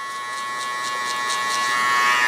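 Electric hair clippers buzz steadily while cutting a taper fade with a guard attached. A faint rhythmic pulsing runs through the close, even drone, and no one talks.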